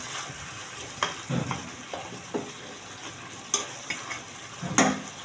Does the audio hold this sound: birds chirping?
no